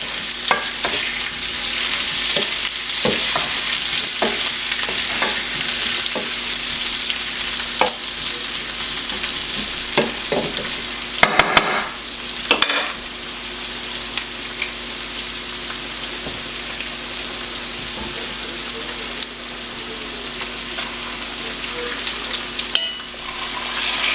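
Pork chops and potatoes frying in a pan, a loud continuous close sizzle and crackle with scattered pops, left to cook undisturbed, no talk.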